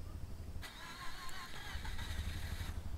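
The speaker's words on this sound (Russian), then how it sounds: "Но она все-таки завелась у меня." A car engine in the video game Car For Sale Simulator cranks and catches, then settles into a low idle rumble, fairly quiet and heard alone.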